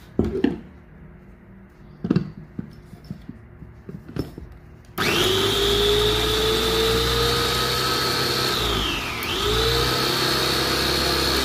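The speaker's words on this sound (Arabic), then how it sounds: "غادي نزيدو ليه شويه ديال زيت الزيتون باش يطحن معاه" An electric grinder starts up after a few quiet knocks and runs steadily and loudly, milling sesame seeds with a splash of olive oil, its motor pitch dipping briefly as the load shifts before recovering.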